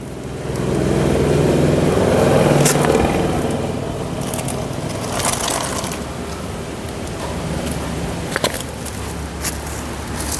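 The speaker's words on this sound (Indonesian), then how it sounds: "Lalu kita buka pakai kunci ring." Loosening the oil drain bolt under a Daihatsu Sigra car with a ring spanner, close scraping and ratcheting metal clicks over a steady background rumble, with a few sharper knocks toward the end.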